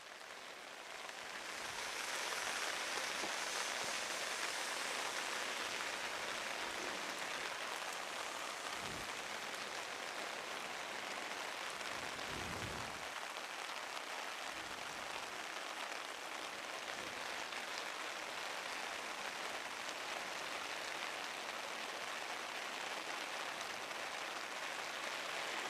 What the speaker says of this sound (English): the rain still showing no signs of slowing down